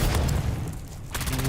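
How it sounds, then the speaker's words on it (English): A grenade goes off in the video game Dune: Awakening with a heavy, booming blast. A brief lull follows, then a second sharp burst of noise, all close and loud. "Oh, we're dropping grenade"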